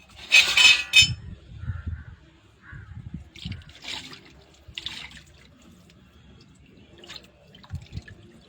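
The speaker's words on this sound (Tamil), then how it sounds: "இன்னும் தண்ணி நிறையா ஊற்றி எடுப்போமுங்க." Water is poured and splashes in uneven bursts while a stone wet grinder is rinsed, with soft trickles and drips between the louder pours.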